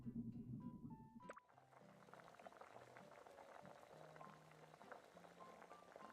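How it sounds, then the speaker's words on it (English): Bubbling boiling water from a pot of pasta cooking in the video game Heartopia, a steady dense simmering texture running throughout with low tonal game music underneath and no talk. "It sounds like water boiling."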